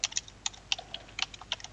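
Quiet, close keystrokes on a computer keyboard come in an irregular run of light clicks, with no voices.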